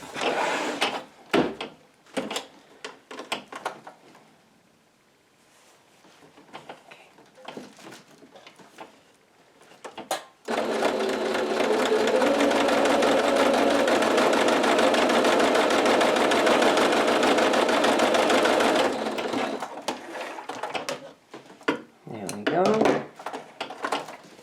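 A sewing machine stitches apron fabric in one continuous loud, close run of about eight seconds, with handling clatter before and after and a person talking around it.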